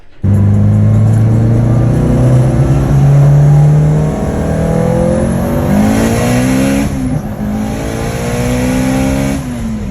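Mitsubishi Evo under hard acceleration, engine note climbing steadily through the gears with brief dips at shifts, loud and close from start to finish, with no talking.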